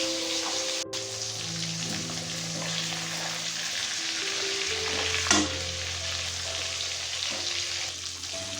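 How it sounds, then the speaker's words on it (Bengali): Pieces of hilsa fish fry in hot oil and are turned over, giving a continuous crackling sizzle with occasional stirring clinks, close and steady. "এখানে আমাদের মাছ ভাজা হয়ে গেছে।"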